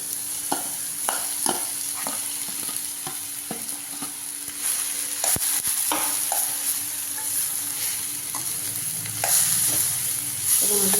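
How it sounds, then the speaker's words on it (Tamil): Potatoes with turmeric fry in a pan and are stirred, the steady sizzle punctuated by repeated scraping taps of the spoon against the pan. "நல்லா கலந்து விட்டுக்கலாம்."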